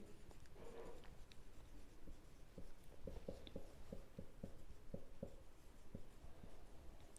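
A pen scratches on paper in short, quiet strokes and taps, faint and close, as algebra working is written out.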